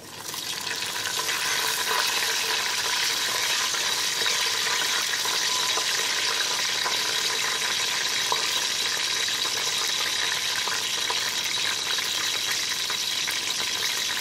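Spices sizzle and fry in a hot pan while green tahari is being made, giving a steady, close crackling hiss that runs throughout with no voices.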